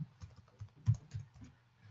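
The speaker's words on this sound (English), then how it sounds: "So I can click on the name and just start typing." Someone types on a computer keyboard in a short, quiet burst of irregular clicking keystrokes.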